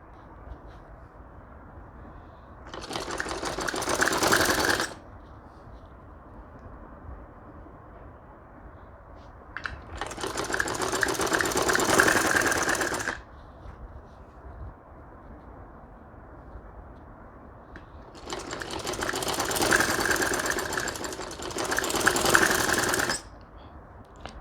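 A sewing machine stitches dori piping onto a kameez in three bursts of rapid mechanical whirring, each lasting a few seconds, separated by quieter pauses with faint room noise.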